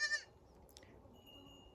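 On a small goat farm, a single short goat bleat sounds near the start, then fades into quiet farmyard background with faint higher sounds.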